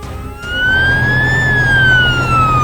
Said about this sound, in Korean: 소방차는 지체 없이 곧장 무슨 일인지 확인하러 달려갑니다